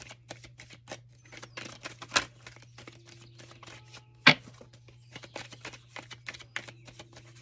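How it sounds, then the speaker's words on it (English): Tarot cards being shuffled by hand, a run of soft papery riffles and flicks with two sharper snaps, heard up close and alone over a steady low hum. "Let's get 3 shuffles."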